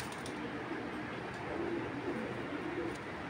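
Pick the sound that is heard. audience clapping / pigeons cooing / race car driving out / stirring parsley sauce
pigeons cooing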